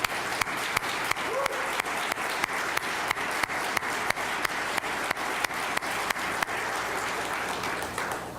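An audience at an Oklahoma Attorney General's public update claps in a steady, even round of applause from start to finish, with no voices over it.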